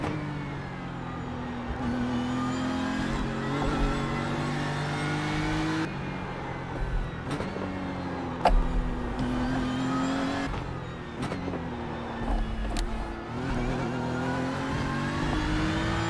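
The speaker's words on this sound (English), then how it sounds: "I'm just going to run a couple laps with this M4 GT3" A BMW M4 GT3 race car laps a circuit in the iRacing simulator, its engine revving up through the gears with sharp shift cuts and repeated acceleration pulls, loud and close, no speech.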